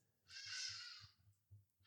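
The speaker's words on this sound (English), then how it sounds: "There are those goddamn birds again" Crows caw outdoors in one long, harsh call followed by shorter bursts, fairly distant and faint, over a low rhythmic background hum with no talking.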